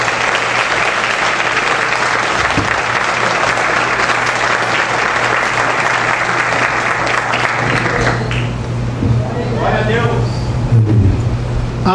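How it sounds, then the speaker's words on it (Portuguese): A church congregation applauds together in a loud, steady wash of clapping that fills the room, with a voice emerging toward the end. "Vamos aplaudir ao Senhor nosso Deus."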